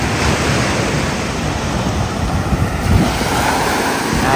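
Sea waves wash continuously onto Devbag beach on the Konkan coast, a loud, close, steady roar of surf with wind buffeting the microphone and no voices.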